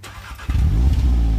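Audi S1 hatchback engine starting up inside the car: a brief quiet moment, then the engine catches suddenly and settles into a loud, steady, close idle hum.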